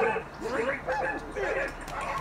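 A dog in the video game Wolfenstein 2 barks and whimpers. Short yips and whines come in several close bursts at moderate loudness, mixed with voice-like sounds.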